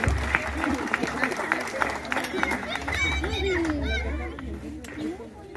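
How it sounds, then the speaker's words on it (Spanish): Audience applause at a Mexican Independence Day Grito ceremony, steady clapping and crowd chatter spread across the whole stretch, fairly loud and diffuse with voices mixed in. "¡Otro fuerte aplauso!"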